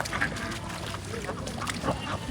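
Farm ducks quack near the water alongside chickens, a few short calls over a noisy outdoor background with some voices.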